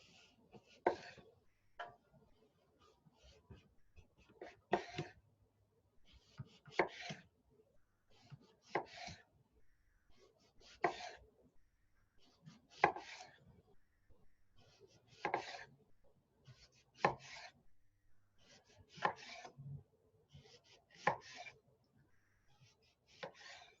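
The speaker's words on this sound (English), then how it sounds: "cut the plantain on some diagonal cuts here" A knife slicing a plantain on a cutting board into diagonal one-inch pieces, with about a dozen crisp, evenly spaced chops in a steady rhythm, close and moderately loud, with no talking.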